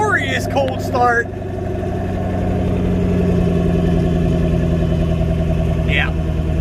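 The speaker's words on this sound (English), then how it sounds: "And of course we got that glorious cold start." A Ford Mustang Shelby GT500 idles steadily after a cold start, a loud, even rumbling drone throughout with a few brief knocks and clatters near the start.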